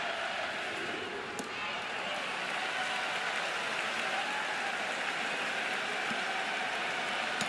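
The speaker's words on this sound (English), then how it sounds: "The crowd will tell you what happened." A college baseball stadium crowd at LSU vs Oklahoma, bottom of the seventh with the bases loaded, reacting to a pitch with a continuous, distant roar and applause-like wash that stays level throughout.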